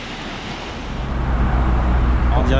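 Surf washes onto a beach beneath cliffs at Limassol, Cyprus, a broad steady roar that grows louder midway, mixed with wind buffeting the microphone.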